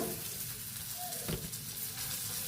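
Coriander seeds sizzle steadily in hot oil in a village-style kitchen, a constant close frying hiss with a brief stir or clink partway through.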